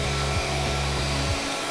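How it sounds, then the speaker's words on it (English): A compact floor scrubber's vacuum motor runs with a loud, steady whine and low hum, briefly dipping and restarting, then cutting off at the end. "I can take it, took my vacuum down, my squeegee down, hit my vacuum"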